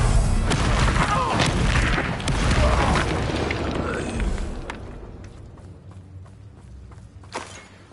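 A Confringo blasting spell from the Hogwarts Legacy video game bursts into a loud booming explosion that rumbles and slowly fades over several seconds, with faint thuds and a sharp crack near the end.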